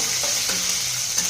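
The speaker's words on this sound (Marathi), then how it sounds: "शेंगदाणे आपल्याला खरपूस असे भाजायचे आहेत" Peanuts roasting in hot oil in a pan for carrot-cucumber poha, a steady close sizzle with a few soft stirring scrapes, no talking.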